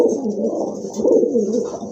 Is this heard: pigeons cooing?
yes